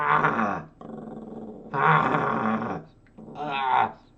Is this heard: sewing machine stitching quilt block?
no